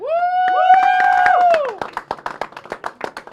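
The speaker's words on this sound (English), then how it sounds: "If we give them a round of applause for a great effort in winning first place" A loud whooping voice rings out, then a few scattered claps ripple through the crowd at a collegiate Overwatch esports tournament, cheering the first-place team.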